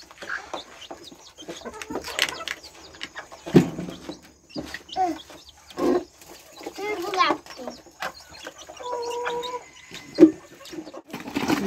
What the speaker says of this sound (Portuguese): Olha aqui, gente, a galinha chocando.